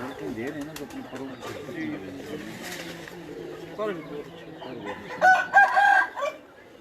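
A rooster crows at a farm house in Chak Shahzad, Islamabad, one loud, clear call near the end, following pigeon coos and hen clucking heard under steady nearby conversation.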